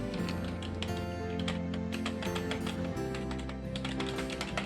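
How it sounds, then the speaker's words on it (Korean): Rapid, clattery clicking of keys on an Abko Hacker K300 mechanical keyboard, a dense stream of taps at close range, fairly quiet, with no talking. "일단 키보드 타건 소리부터."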